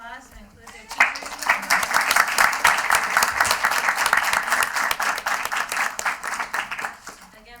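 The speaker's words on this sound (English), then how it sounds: "Let's give them one more round of applause and include their teachers" An audience at a school committee meeting gives a sustained round of applause for students and their teachers, dense clapping starting after a brief quiet moment and holding steady, with some voices mixed in.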